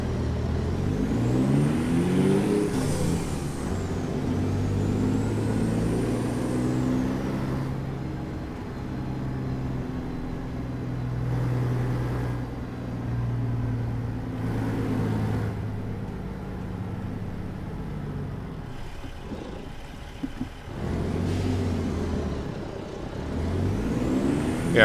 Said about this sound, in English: it sounds probably like the same engine that I had in a 389